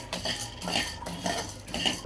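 Sunflower seeds are stirred in a pan while they warm, with a spoon clinking and scraping against the metal and the seeds rattling in quick, uneven bursts close by.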